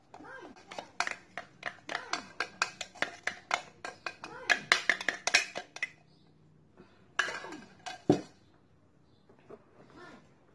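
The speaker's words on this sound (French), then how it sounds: "On mélange" Haitian cake batter being mixed in a bowl, a spoon or whisk knocking against the sides in a quick run of sharp clinks and scrapes, pausing briefly before a few more strokes and one louder knock, close and fairly quiet.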